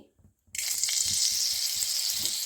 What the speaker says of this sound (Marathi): हे तेल तापलं की पहिली पहिली हे मिरी घालायची